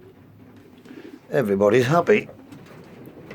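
Coloured race pigeons and fantail pigeons in an allotment loft give a loud, close, rolling coo lasting under a second, with a soft voice speaking before and after it.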